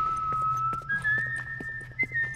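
Whistling from a character in The Last of Us: Left Behind, a wavering pitched tone that steps up in pitch midway and carries on steadily, close-up over a low soft background rumble.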